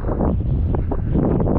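Strong wind over rough sea around a tropical island fishing spot: loud buffeting wind against the microphone with heavy low rumble and irregular gusty surges, continuous and close.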